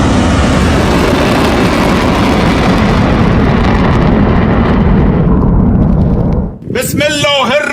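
Rumbling, roaring blast noise from missile strikes in war footage fills most of the clip loudly and continuously, then cuts abruptly near the end to a brief burst of voices.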